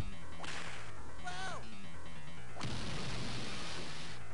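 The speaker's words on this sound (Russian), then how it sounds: "Хлыстом хлестнем по тому замочку." A whip lashes at a lock in the side-scrolling video game Earthworm Jim 2, a sharp crack followed by a swishing whip tone and a second louder crash, over steady background game music.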